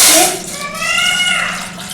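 Water is poured into a cooking pot holding chopped drumstick (moringa) pieces, making a loud gushing splash that settles into a steady trickling pour, close by.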